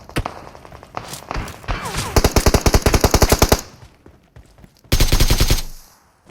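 PUBG Mobile gunfire: a few single shots, then a long rapid automatic burst of sharp cracks, a pause, and a second dense burst, all loud and close.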